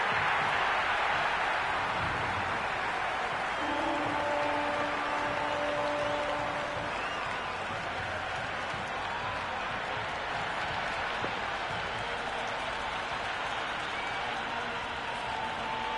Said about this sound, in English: the excitement emanating from this crowd at the moment